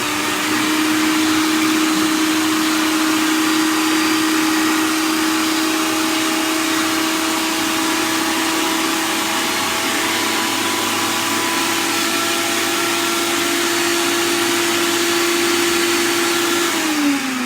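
A food processor grinds green falafel mixture with chickpeas in a kitchen, running as a loud, steady motor whine and buzz from start to finish and winding down at the very end.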